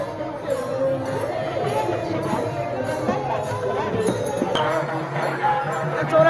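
A dense crowd throngs the Anandi festival palanquin procession, a steady babble of many voices with scattered calls and cheers, near and continuous throughout with no single voice standing out.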